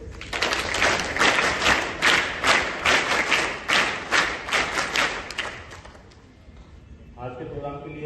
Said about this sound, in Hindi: एक बार इतने जोर से 3 तालियों का मान दो।